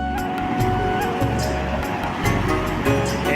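Village river water rushing and churning steadily outdoors, a continuous loud broadband wash with low rumble, no voices.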